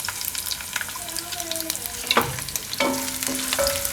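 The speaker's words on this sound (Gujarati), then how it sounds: "તેલ આપણું ગરમ થઈ ગયું છે. તેમાં આપણે નાખી દેવું આદુ મરચાં ને લસણ" Ginger, chillies and garlic fry in hot oil, giving a continuous close sizzle and crackle with a few clinks and stirring sounds, and no one talking.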